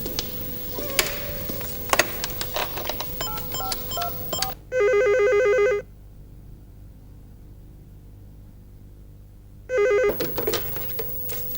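Two loud electronic telephone rings, each about a second long and several seconds apart, follow a stretch of clicks and clatter with near silence between the rings.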